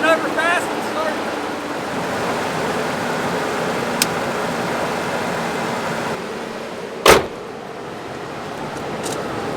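A truck engine, freshly started from a portable jump starter, runs as a steady low rumble, with one sharp broadband burst near the end.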